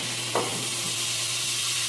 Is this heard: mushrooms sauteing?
yes